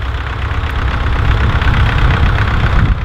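McCormick International B250 tractor with a fancy exhaust, its engine running steadily at a loud, close, even throb for a few seconds while ploughing, with no voices.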